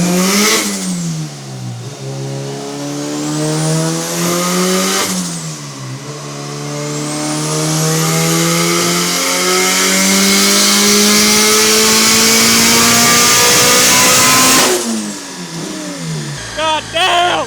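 A turbocharged Honda Civic on a dyno revs hard and close, its engine pitch climbing in repeated sweeping pulls, with a short drop between them and a long sustained run to near the end.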